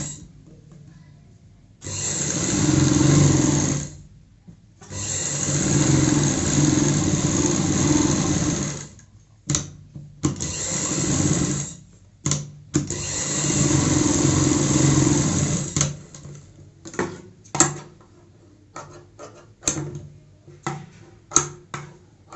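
A sewing machine stitches the side seams of a baby frock in several long whirring bursts separated by pauses, close and loud, ending in short stop-start runs.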